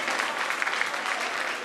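A church congregation at Bethel Evangelical breaks into applause during a sermon, a sustained, even roar of many hands clapping together at moderate loudness, with no voices standing out.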